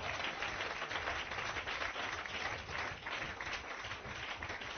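A church congregation applauding, a steady wash of many hands clapping at a moderate distance, continuous and even throughout with no voices.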